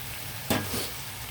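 Prawns and onions fry in oil, a continuous close sizzle with one sharp stir or toss burst near the middle and no voices.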